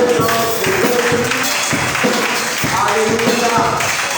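A church congregation claps and cheers in praise during a service, rhythmic hand claps and raised voices mixed into a loud, dense wash, with a preacher talking over it.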